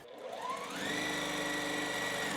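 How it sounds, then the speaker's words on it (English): A sewing machine stitches quilt block pieces together, a steady, fairly quiet whirring hum that runs without pause. "So like that, and we're going to sew."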